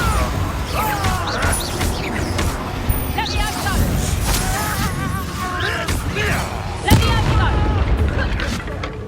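Spell blasts in the PS5 game Hogwarts Legacy, including a Bombarda explosion, boom and crash amid loud combat noise, with one sharp heavy impact standing out near the end. Voices and battle cries run throughout.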